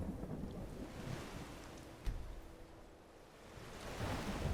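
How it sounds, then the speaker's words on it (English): Steady rain hiss with low rumbling and a sharp crack of thunder near the middle, ambient weather in the video game Skyrim, continuous and fairly loud with no voices. "I cannot believe that it's still raining."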